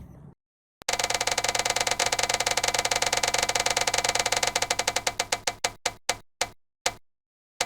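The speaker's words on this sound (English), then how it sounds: "so let us spin that wheel of what book" A book-picking prize wheel is spun, giving rapid loud clicking ticks that gradually slow and space out until the wheel stops.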